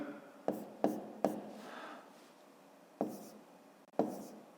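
A pen or pencil scratches out an asterisk on paper during a fifth-grade math exercise: several short, sharp strokes in a quick cluster, then two more spaced apart, quiet and close.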